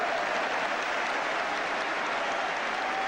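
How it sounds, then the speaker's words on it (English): Sustained applause from the football crowd at West Ham's stadium during a 1983 Division One match against Manchester United, a dense, even wash of clapping with no talk. "You can see the applause that's coming up."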